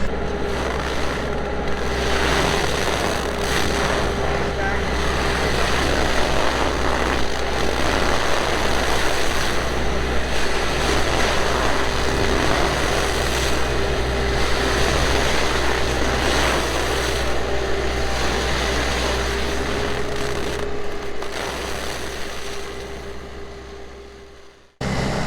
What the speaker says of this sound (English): Today we have it running obviously on a skid steer.